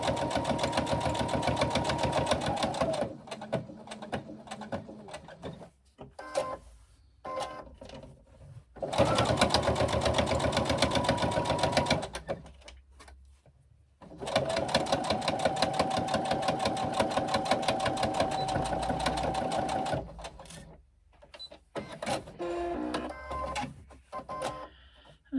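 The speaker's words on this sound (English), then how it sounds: "we're closing the gap at the same time as stitching the pocket onto our lining piece" Sewing machine stitching a pocket onto wristlet lining, steady rapid close mechanical chatter running in several long bursts with short quiet gaps between.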